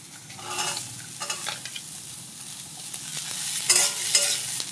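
Ridge gourd peels with chopped onion sizzle and fry in a pan, with intermittent scraping stir strokes of a spatula over a steady hiss, no voices.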